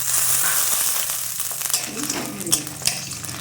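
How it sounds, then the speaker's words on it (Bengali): Lentil bori frying in a tablespoon of white oil in a hot kadai, a steady hissing sizzle with stirring scrapes and a couple of small clinks near the end. "1 টেবিল চামচ সাদা তেল দিলাম বড়ি ভাজার জন্য। বড়ি দিয়ে দিলাম"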